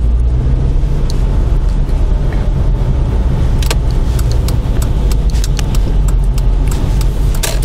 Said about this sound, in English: Quite a lot of cars today.